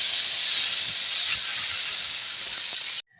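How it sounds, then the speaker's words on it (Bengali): Lentil dumplings frying in hot oil with turmeric give a steady, dense hiss that holds evenly for about three seconds and then cuts off abruptly, with no voices. "হলুদটা দিয়ে নাড়া করে ভেজে নেবো"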